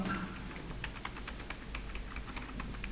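Fingers tapping letter keys on a computer keyboard in a quiet room, a steady run of light, close clicks with no voice over them.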